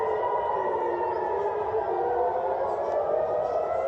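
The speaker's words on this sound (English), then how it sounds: "the moments that the air raid sirens were going off" Air raid sirens sound during a wartime alert, a loud, steady, continuous wailing tone that holds throughout with no voices.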